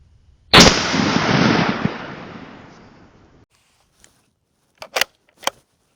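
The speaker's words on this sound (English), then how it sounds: "Here we go, firing." A single 6.5 Creedmoor rifle shot cracks loudly outdoors at a deer hunting range, followed by a long decaying echo, then a few faint clicks and short knocks.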